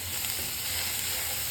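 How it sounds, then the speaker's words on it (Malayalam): Snake gourd with turmeric, salt and curry leaves stir-frying in a pan, giving a steady, close, hissing sizzle that runs unbroken from start to finish. "ഇനി ഇതെല്ലാം നന്നായിട്ട് ഇളക്കി അടച്ചു വെച്ച് വേവിക്കണം"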